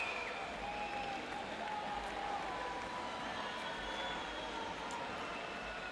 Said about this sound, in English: A rousing cheer from the crowd.